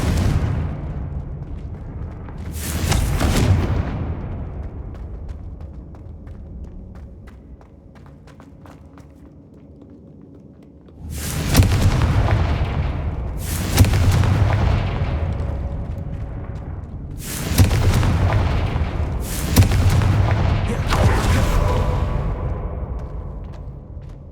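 Confringo fire spells burst in the Hogwarts Legacy video game, a series of loud, close, booming explosions that come singly and then in a rapid cluster of three or four blasts, separated by quieter stretches of game ambience.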